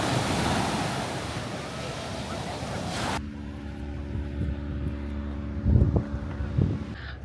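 Surf breaking on a Miami beach, a loud steady wash of waves that drops abruptly to quieter ambience with low hum and a few thumps and bumps near the end.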